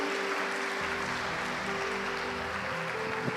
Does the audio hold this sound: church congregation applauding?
yes